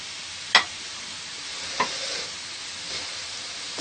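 Boiled peas are stirred into chicken macaroni frying in a pan, giving a steady sizzle broken by a few sharp scraping clicks of the spoon against the pan.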